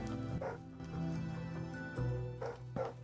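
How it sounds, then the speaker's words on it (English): Several dogs bark, yip and whimper at home when someone arrives, excited bursts at moderate distance over steady background music. "What they barking at you?"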